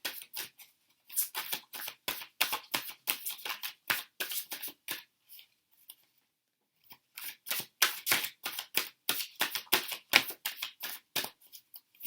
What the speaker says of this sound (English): Just going to shuffle.